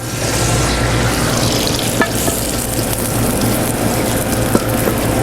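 A knob of butter with mostly olive oil sizzles and crackles steadily in a frying pan, with a few small pops, a loud, close, continuous fry without speech.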